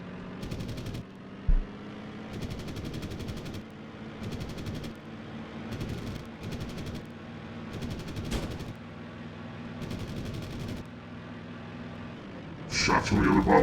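Gunfire from other bombers in a flight video game comes in repeated short machine-gun bursts over a steady engine drone, with a louder rush of noise at the end.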